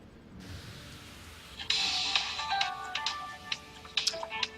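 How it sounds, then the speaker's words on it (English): A phone ringtone chirps in a Guild Wars 2 game scene, a bright electronic melody of short repeated tones starting after a brief pause and running on at moderate volume over low background hum. "Another phone call."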